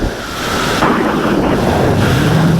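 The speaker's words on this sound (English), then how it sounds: "let's see where this wind's coming from" Loud, steady wind roars and buffets the microphone at an open paramotor field, a continuous rushing noise that builds slightly and never breaks, with no voices.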